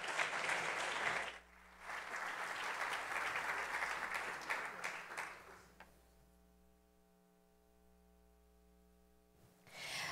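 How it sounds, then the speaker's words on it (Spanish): An audience at a health forum in Mexico applauds in a warm burst of clapping that fades, followed by a quiet stretch with a sustained tone, then clapping rises again at the end. "Démosle un fuerte aplauso."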